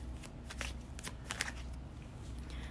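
Tarot cards being shuffled and drawn from a deck, a soft, continuous papery riffling close by with a few slightly sharper flicks, and no speech.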